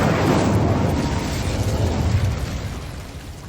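The Incendio fire spell in Hogwarts Legacy erupts as a dense, roaring burst of flame, loud and close, fading gradually over a few seconds with no voices.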